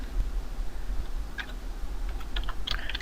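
Keys clatter on a computer keyboard as a search term is typed into a plugin search box, a short burst of quick, close clicks over faint room hum.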